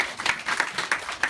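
Audience applause at an awards or election announcement, a steady wash of many hands clapping with soft crowd texture throughout, moderately loud and without speech.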